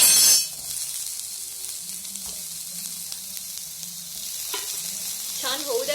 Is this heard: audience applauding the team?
no